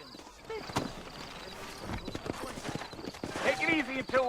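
Horse hooves clopping in a steady walking rhythm, with a horse whinny and people talking over it in a busy town ambience in Red Dead Redemption.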